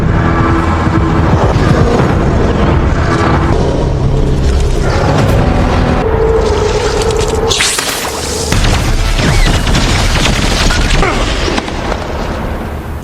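Strings of firecrackers blasting in a scene from a 2025 Predator film, a dense run of loud booms and crackles rolling continuously for about thirteen seconds, with a sharper burst near the middle.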